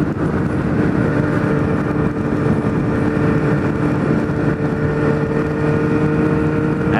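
A motorcycle engine drones steadily at high revs, loud and continuous without clear gear shifts, with no talking.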